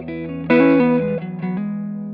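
A distorted PRS DGT electric guitar chord through a 15-watt tube amp rings out, struck again with a few quick notes, sustaining with a wash of reverb as it decays.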